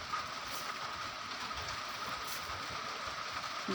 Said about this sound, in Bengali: কাঁঠালের বিচিগুলো আমি সুন্দর করে ভেজে নিতে ভেজে নিব